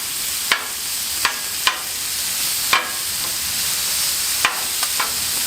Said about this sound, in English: go ahead and throw our meat on. So get some of that grease in there, that bacon grease